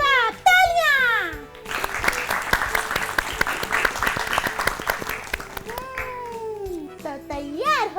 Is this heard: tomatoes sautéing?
no